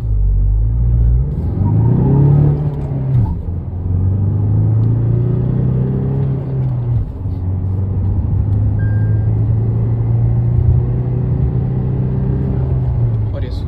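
A Tata Safari in city mode accelerates hard from standstill toward 100, its engine rumbling loud and close with the pitch rising through each gear, dropping briefly at the shifts, then climbing again.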